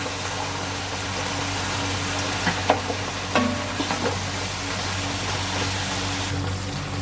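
Ginger garlic paste with a little water sizzles and fries in a hot pan, a steady loud crackling hiss, with a few scrapes and stirring clicks from a utensil.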